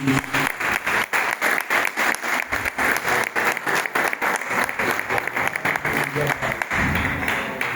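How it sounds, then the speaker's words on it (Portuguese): A church congregation in Monte Gordo in the Algarve applauds in praise, with loud, dense, sustained clapping from many hands that carries on steadily for the whole stretch. "Vamos dar um aplauso ao Senhor"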